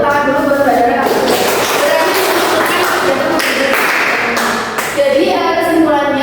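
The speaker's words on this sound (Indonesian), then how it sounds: "Tepuk tangan dulu buat Mbak Dara." Students clapping in a classroom during a microteaching lesson, a steady patter of hands lasting several seconds with voices mixed in.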